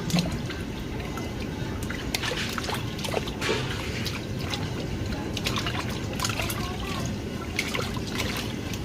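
Raw meat is rinsed under running water at home, giving a steady close trickle and splash of water that runs continuously with small irregular splashes throughout.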